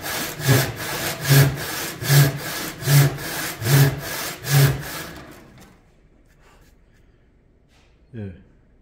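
A hand saw cuts through wood in six even, rhythmic strokes at close range, then stops and leaves near silence, broken by one brief faint sound near the end.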